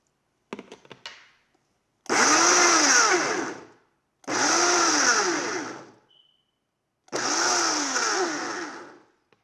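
A blender pulsing strawberries into a puree with a little water, running in three loud bursts of about two seconds each, with short pauses between them and a brief rattle before the first burst.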